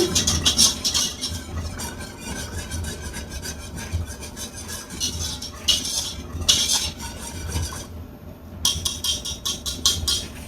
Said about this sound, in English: I'm gonna just mix this around with that all-purpose flour and that butter.